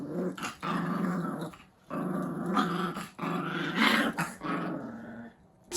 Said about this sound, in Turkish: Köpeğimizi de sahiplendik.